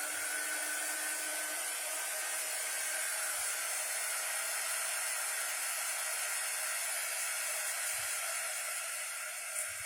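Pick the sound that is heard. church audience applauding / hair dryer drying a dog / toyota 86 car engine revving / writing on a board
hair dryer drying a dog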